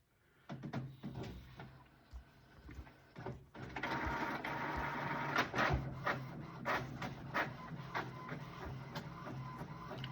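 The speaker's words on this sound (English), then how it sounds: "There goes the printer." A desktop label printer runs off a USPS shipping label for a TCGplayer order: a couple of clicks and a short feed, then several seconds of continuous mechanical whirring punctuated by sharp ticks and clacks, close and fairly loud.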